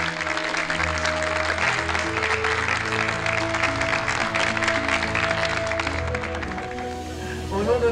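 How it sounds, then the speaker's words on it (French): A cruise ship gala audience applauds the crew in a large hall, with steady, dense clapping throughout, loud and sustained, while music or voices hum faintly underneath. "donc on peut les applaudir tous, toutes et tous très très fort"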